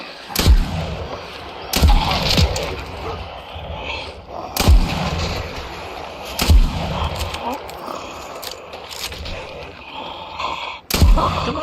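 Revolver shots in Fallout 4 ring out one at a time, five or six heavy booming cracks spaced a second or two apart over a continuous game soundscape.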